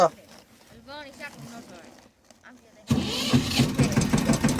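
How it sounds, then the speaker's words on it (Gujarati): A voice speaks over quiet background, then a tractor engine abruptly cranks and catches, running loud and rough with a steady chugging idle. "ટ્રેક્ટર નો સલેપ લાગી ગયો છે"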